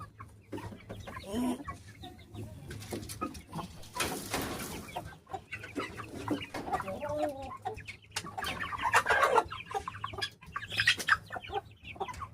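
Chickens, including guinea fowl, clucking and murmuring nearby, with scattered squawks and a rustling burst in the middle, continuing throughout over faint background hum.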